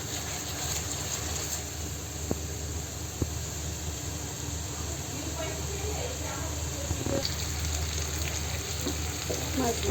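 Rui fish pieces fry in a masala of cumin, turmeric, chilli and tomato, giving a constant hissing sizzle with a few faint taps of a utensil.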